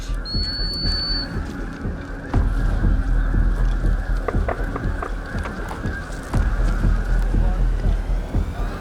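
Geese or other waterfowl honk and call at a hunting site with decoys, a steady chorus of calls over outdoor noise with occasional thumps and handling sounds, fairly close.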